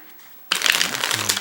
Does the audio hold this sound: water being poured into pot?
no